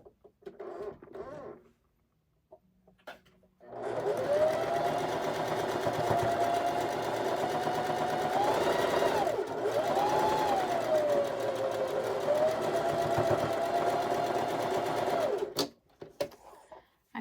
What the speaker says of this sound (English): we're going to sew along this line here